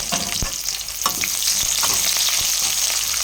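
Onion and cinnamon frying in hot oil in a kadai, a steady loud sizzle with a few stirring clicks and scrapes throughout, no voices.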